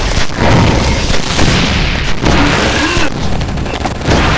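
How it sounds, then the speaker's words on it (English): Autocannons firing in the video game Oni, a loud, dense barrage of heavy booming blasts with brief dips between volleys, close and overwhelming. "Oh, auto cannons."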